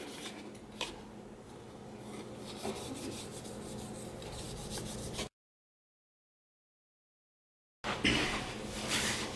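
Close, soft rubbing and rasping as a cloth with alcohol wipes a star piece for a Captain America shield replica, steady strokes that cut to silence midway, then resume.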